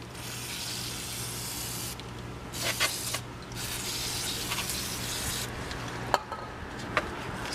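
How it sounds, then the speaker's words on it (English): Brake cleaner hisses from an aerosol can onto the front brake parts of a 2012 Fiat 500 in several close bursts, with short pauses and faint mechanical clicks between the sprays. "I'll still clean it a little bit more with a brake cleaner. So I will just spray that"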